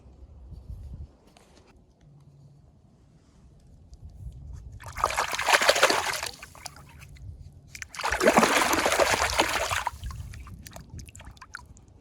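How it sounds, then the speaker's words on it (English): An arrowhead being rinsed by hand in a creek, two bursts of splashing and sloshing water separated by quiet stretches, with faint low background noise between. "Let's go wash it off in the creek."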